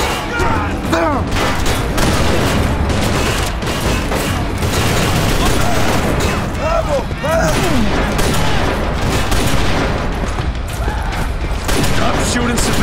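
Dense, continuous gunfire from the video game Inversion crackles with bursts and booms throughout, loud and close, while voices shout over the firefight.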